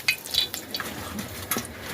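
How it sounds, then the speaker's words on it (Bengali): Fish fillets coated in turmeric, salt and chili powder fry in a pan, a steady close sizzle with scattered spits and brief utensil clinks, no talking. "এখন হচ্ছে মাছটা ভাজতেছি।"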